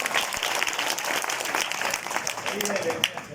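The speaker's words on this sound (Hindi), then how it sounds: "जम के ताली पीटो" An audience at a youth gathering claps hard and steadily at a speaker's urging, a dense crowd sound close by, with a few voices calling out through the clapping.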